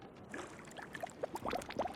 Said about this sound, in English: You also mentioned the bubbling water